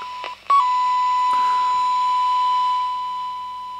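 A steady electronic test tone comes through the speaker of a Quansheng handheld radio modified for HF reception, holding a single continuous beep for several seconds after a couple of brief clicks, with a faint hiss underneath.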